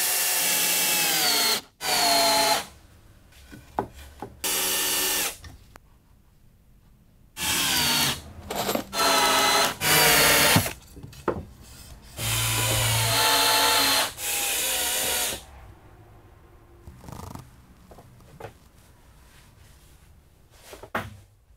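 Power screwdriver driving screws into wooden battens fixed against roof rafters during attic insulation, heard as repeated loud whirring bursts of a few seconds each, separated by short pauses and light handling noises.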